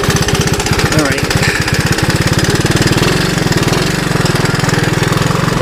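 A 1981 Honda 185S motorcycle riding off-road, its engine thumping loud and close in a rapid, steady pulse that swells as it pulls away, with a brief voice over the top.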